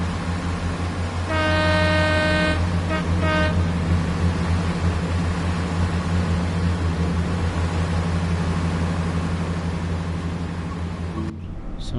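A commuter electric multiple unit in Train Sim World 4, set in London, accelerating at full power: a steady loud motor drone with rising whine and a brief horn-like tonal blast near the start, continuous and close.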